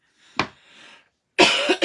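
A single close, dry cough, followed after a short pause by a louder, harsher cough burst.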